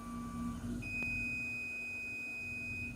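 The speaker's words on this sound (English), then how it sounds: "All right, Tony, that beeping sound means the job is over" A laser engraver's long, steady high-pitched electronic beep tone holds for a couple of seconds over a low machine hum.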